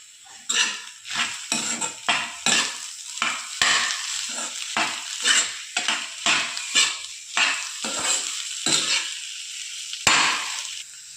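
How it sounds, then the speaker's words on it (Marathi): Potato chutney stirred with salt in a pan, a spoon scraping and clinking against the metal in irregular, close, sharp strokes, roughly twenty of them, with no talking. "चवीनुसार मीठ हे छान आता मिक्स करून घ्यायचं आहे"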